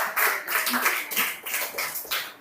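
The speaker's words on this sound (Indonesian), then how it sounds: "kita beri tepuk tangan untuk Rafael" A high school biology class gives a short round of close, uneven clapping for a classmate, lasting about two seconds.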